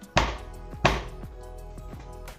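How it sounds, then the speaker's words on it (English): A Zwilling 18-inch Chinese cleaver chops meat on a wooden block: two heavy, close thuds spaced apart, then a few lighter knocks as the blade settles, all in a quiet room with no talking. "So let's do some chopping and see how good it is."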